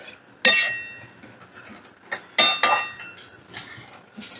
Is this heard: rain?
no